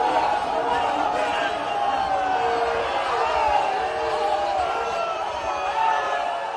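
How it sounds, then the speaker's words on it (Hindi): A crowd of hundreds at Godowlia in Varanasi greets PM Modi, a steady, dense roar of voices and cheering that holds at an even loudness throughout, with no distinct rhythmic chant standing out. "गोदौलिया पर मौजूद सैकड़ों लोगों ने मोदी मोदी के नारे लगाकर उनका स्वागत किया"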